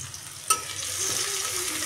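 Chopped onion and garlic sizzle in oil in a wok, a steady close frying hiss with a brief clink of a stirring utensil early on.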